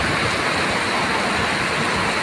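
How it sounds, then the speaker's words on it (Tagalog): Floodwater rushes hard through a street in Davao City during heavy rain, a loud, dense, unbroken torrent close by. "Oo, lumagagas yung tubig."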